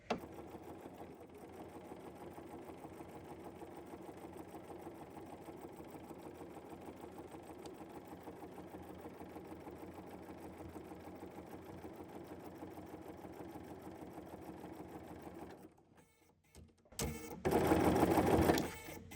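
A sewing machine fitted with a freehand embroidery foot stitches at a 1.8 stitch length in a steady, fast mechanical whir lasting most of the clip, then stops briefly and starts again louder near the end.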